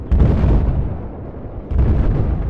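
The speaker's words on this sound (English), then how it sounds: "I just got shot by bullets." Gunfire in the video game Battlefield, loud booming bursts of shots and blasts that fill the clip, dipping briefly before another heavy burst.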